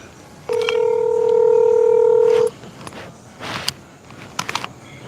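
A phone call being placed, with a short run of beeps followed by a loud, steady two-second tone close up, then faint handling noise and a few small clicks.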